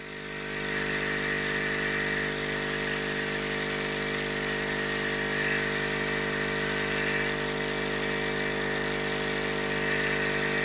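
A laser engraver's air assist pump runs as a steady, loud, continuous hum and buzz, blowing air without a break and with no talk over it.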